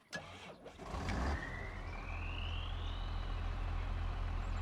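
Twin turbo tractor engine running steadily and loud up close, a deep continuous rumble with a rising turbo whine building over a few seconds.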